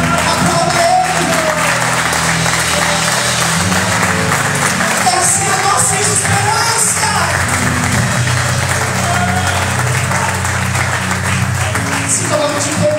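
Church congregation applauding at a regional gathering, steady loud clapping filling the room with someone speaking over it.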